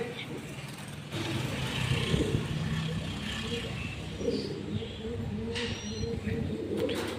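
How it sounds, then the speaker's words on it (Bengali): Soft cooing of a pair of yellow house pigeons in a pet shop, low repeated coos under someone talking nearby with steady background noise. "ইয়েলো কালারের হাউস পিজন আছে এটা জোড়া আছে"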